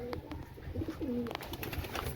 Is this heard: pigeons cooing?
yes